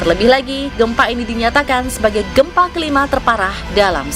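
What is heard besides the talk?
No distinct noise like a dog, phone or traffic.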